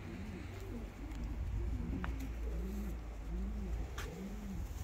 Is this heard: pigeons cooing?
yes